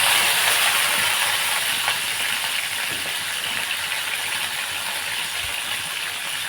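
Curry leaves dropped into hot oil with mustard seeds and cumin give a steady, close sizzle and hiss that holds at an even level throughout, with no voice over it.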